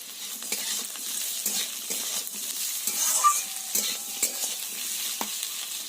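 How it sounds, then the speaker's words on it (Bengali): Potatoes and chopped onions sizzling in hot oil with intermittent scraping stirs and a few light metallic clinks of a utensil against the pan, close by. "আলুগুলো একটু লাল লাল করে ভেজে নেব"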